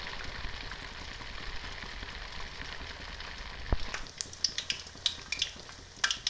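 Malpua batter fries in hot oil with a continuous low bubbling sizzle, and sharper crackles and pops break in during the last couple of seconds, close by with no voices.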